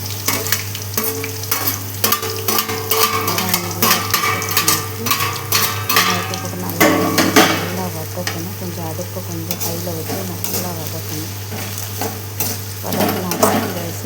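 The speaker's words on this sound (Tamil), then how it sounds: "நல்லா வதங்கின உடனே வெங்காயம் போடுறோம் வெங்காயத்தை போட்டுட்டு" Onions sauté in hot oil in a pan for a home-style chicken gravy, a continuous crackling sizzle with frequent scraping and clanking of a ladle against the pan, close and lively throughout.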